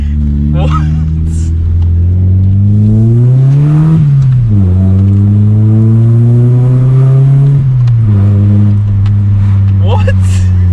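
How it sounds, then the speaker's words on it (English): An everyday car fitted with a cheap cannon exhaust after a resonator delete revs loudly and up close, its drone rising and falling across several throttle blips, while people talk over it. "So we just did a resonator delete and got the cannon put on. So already it sounds amazing."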